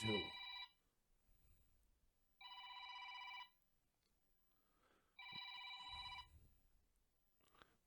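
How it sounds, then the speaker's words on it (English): A telephone bell rings three times in an evenly spaced pattern, each ring lasting under a second, faint in the background with someone talking between rings. "Sorry for that phone ringing there"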